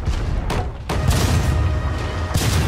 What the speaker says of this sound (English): Everyone on cannons, give them a broadside.